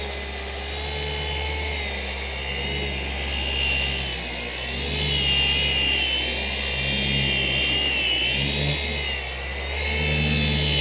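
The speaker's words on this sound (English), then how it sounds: "So the polisher is going to be on a certain speed with certain pressure." A car polisher runs on the paint of a Lexus LX470, a steady close electric whine that rises and falls slightly as pressure and movement change across the panel.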